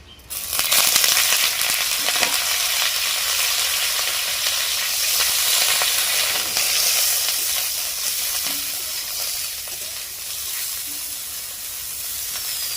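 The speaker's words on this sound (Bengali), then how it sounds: "আমি এবারে সরষের তেল দিয়ে দিব। কপিটাকে হালকা আমি ভেজে নেব।" Cauliflower for a korma fries in hot mustard oil in a pan, giving a steady, loud sizzling hiss with occasional crackles that runs the whole time with no talking.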